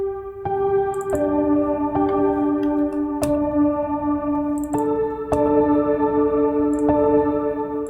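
Sustained synthetic tones, a piano sample processed with a filter effect, shift pitch in a slow sequence of notes, each change marked by a soft attack, with a filtered, processed sheen and no voices.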